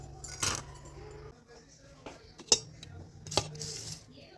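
Metal peeler slicing radish into thin strips, a few sharp scraping strokes and clinks at close range, spaced apart over a low background hum.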